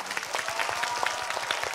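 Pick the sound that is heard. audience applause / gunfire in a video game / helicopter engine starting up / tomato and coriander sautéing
audience applause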